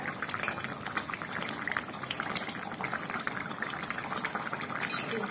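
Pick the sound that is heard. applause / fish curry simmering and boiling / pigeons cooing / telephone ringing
fish curry simmering and boiling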